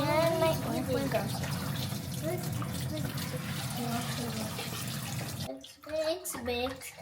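Tap water runs steadily as food is washed in a home kitchen while a beef and potato porridge soup is being prepared. People talk over the flow, and the water briefly breaks off and splashes toward the end.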